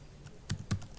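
A few quick keystrokes on a computer keyboard, close and fairly quiet, while code is written for a Python PyAutoGUI script that opens multiple Chrome profiles, with no other sound in the background.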